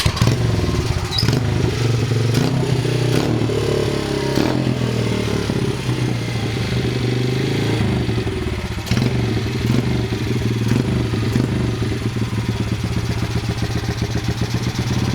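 An old motorcycle engine starts and runs after a choke adjustment, producing a loud, close, steady idle with mechanical clatter and slight revving throughout.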